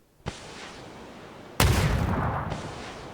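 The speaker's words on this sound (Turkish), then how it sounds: "Bomba attı." A grenade explosion and gunfire in the battle royale game PUBG: a sharp bang, then a much louder burst with a rumbling, decaying roar and another crack near the end, all without speech.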